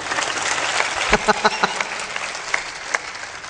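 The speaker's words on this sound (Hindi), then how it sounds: "जोरदार ताली भी बजाना चाहिए।" Listeners at Shri Asang Saheb Ji's motivational talk clap together in a dense burst, with several louder individual claps standing out midway and a faint voice mixed in under the applause.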